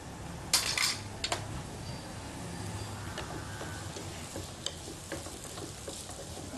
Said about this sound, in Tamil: இன்னொரு பக்கம் நம்ம முந்திரி பருப்பை வறுத்து எடுத்துக்கலாம்.